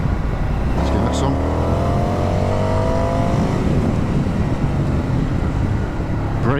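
A 2023 Indian FTR 1200 motorcycle accelerates hard, its engine note climbing steadily through the revs amid loud wind rush. The roar stays close and continuous throughout.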